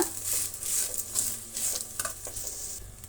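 Grated coconut frying on a low flame for coconut rice, gentle sizzling with light, repeated spatula stirs in a quiet, close pan.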